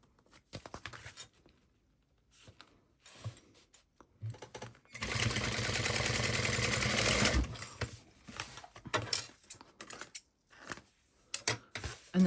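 A sewing machine basting the top of a crossbody bag panel: a steady, close mechanical whir lasting a couple of seconds, framed by soft handling clicks and rustling of fabric before and after.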